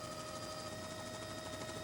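A helicopter sets down on a volcano crater beside a growing lava dome, 6,000 feet above sea level, in 1982, its steady rotor and engine drone filling the brief moment with a whining tonal hum.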